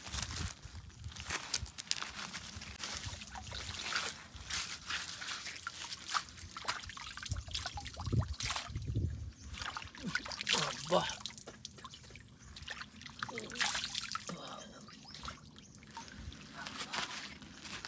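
Water trickles and splashes in a forest stream, a steady broadband wash running through the whole stretch with people talking nearby over it.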